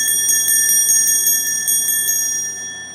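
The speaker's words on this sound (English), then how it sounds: "Let me ring the bell for you. Listen how beautiful the new bell sounds." A new bell rung repeatedly at an evening jewelry auction, about eight bright metallic strikes in a steady rhythm with a sustained shimmering ring that slowly fades, close and clear with no talking.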